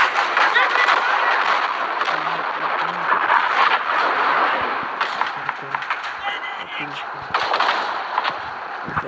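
Video game gunfire and explosions crack and boom in dense, rapid bursts throughout, loud and continuous with scattered sharp impacts, with a voice heard at times beneath the noise.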